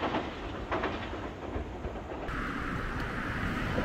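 A Toyama Regional Railway train crossing a bridge in the evening: a steady rumble and rattle of the passing cars, fairly loud and continuous, with faint rhythmic clacking and some wind buffeting.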